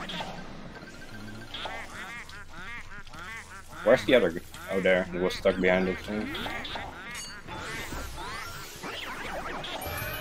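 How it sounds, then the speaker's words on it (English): Shy Guy enemies in the Luigi's Mansion video game quack and honk like agitated ducks or geese in a bursty run of calls, heard over game sounds while a person talks throughout. "Shy Guys have had a few different like sort of sounds over the years, but they, they in general tend to make like quacking sounds"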